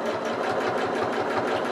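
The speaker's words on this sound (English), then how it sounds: "we'll sew all the way down the side with my quarter of an inch seam allowance" A sewing machine stitching a quarter-inch seam down the side of fabric, a steady rapid mechanical whirr with even pulsing rhythm, loud and close with no talk.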